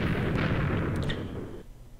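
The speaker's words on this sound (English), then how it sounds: "the grenades are not huge explosions, but they're decent" A loud, booming sticky grenade explosion in Minecraft with a gun mod, a rumbling roar that holds for over a second, then cuts off into quiet.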